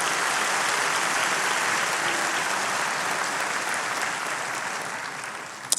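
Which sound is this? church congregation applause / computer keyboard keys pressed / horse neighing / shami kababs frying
church congregation applause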